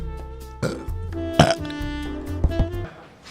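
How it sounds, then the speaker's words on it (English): A long, drawn-out burp rumbles close up, with a few sharper bursts and croaks within it before it fades out. "There will be burping."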